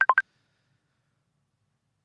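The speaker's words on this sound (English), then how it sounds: "Let's call the phone number." A telephone keypad gives three quick touch-tone dialing beeps at different pitches, clear and close, then silence for the rest.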